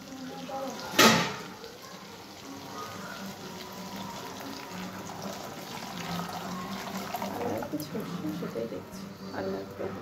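Liquid is poured into a pan while a hilsa fish curry with mustard is being cooked. A soft, splashy pour sounds beneath near, ongoing conversation, and a brief knock comes early on.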